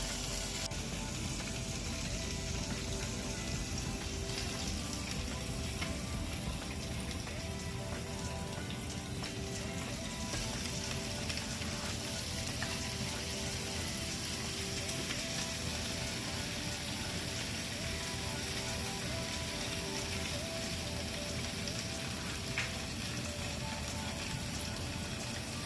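French toast frying on a hot griddle, giving a soft, continuous sizzle with faint crackles and no talk.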